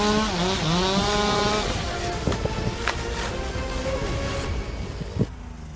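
A chainsaw runs loud and close while felling a tree, its whining engine rising and falling in pitch, with a few sharp knocks and cracks of wood near the end.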